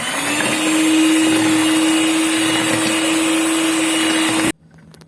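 An electric beater whirs steadily as it mixes a bread pudding batter, a loud close motor hum with a steady pitch that runs for several seconds and then cuts off abruptly.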